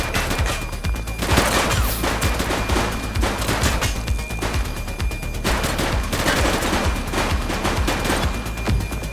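Gunfire in a police shootout in the video game The Precinct, loud, dense bursts of rapid shots and automatic fire continuing throughout with little pause.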